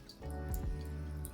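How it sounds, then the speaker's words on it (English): Water dripping at a sink while a dog drinks from it: a few faint, quick drips and tapping splashes over a low steady hum, close by and alone. "she's drinking out of the sink, so sorry about the dripping noise"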